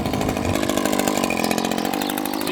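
Echo string trimmer fitted with an Edgit edging wheel, running steadily at high speed with a buzzing two-stroke whine, close and loud throughout.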